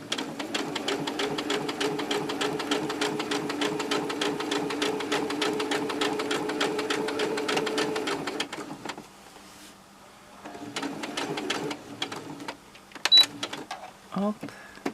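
Domestic sewing machine stitching lines of shirring elastic into fabric, a steady fast whirring run for about eight seconds, then it stops and gives short restarting bursts, close up with a voice talking over it.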